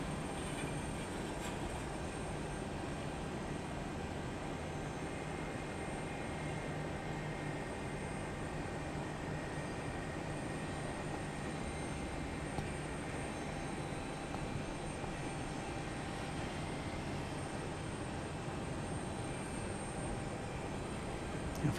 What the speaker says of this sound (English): There's another arrival. Max 8 coming in from Omaha.